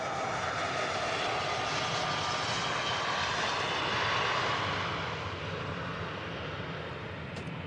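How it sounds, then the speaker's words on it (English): An airliner lands at Manchester Airport, its engines a steady, broad roar heard from a distance that swells slightly midway and then eases a little, with no one speaking. "Well, it's a great touchdown."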